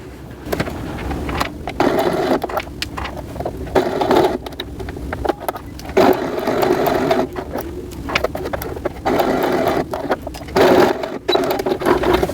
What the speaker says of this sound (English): then I will sew my regular stitch